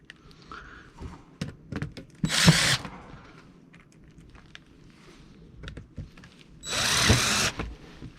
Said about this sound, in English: So we're going to go ahead and put essentially, you know, screws in each hole there.